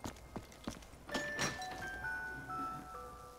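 A soft Christmas bell chime rings in a zombies video game, a few faint dings followed by sustained ringing tones, quiet against a low background.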